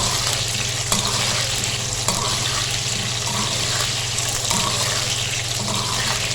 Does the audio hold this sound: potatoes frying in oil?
yes